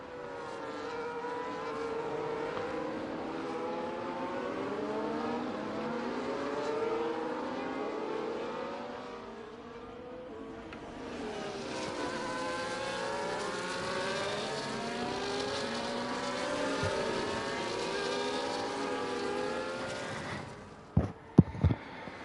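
Several race cars in a Brazil sim race run together behind the safety car, their engines whining and droning in overlapping, shifting pitches at steady volume, with a brief dip midway and a few sharp knocks at the end.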